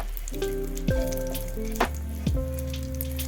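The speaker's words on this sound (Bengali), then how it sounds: "ততক্ষণ আমি এই ফোড়নটাকে তেলের মধ্যে ভালো করে ভেজে নিই।" A spice tempering (phoron) fries in hot oil, a steady sizzle broken by a few sharp pops and crackles, close and clear with no talking over it.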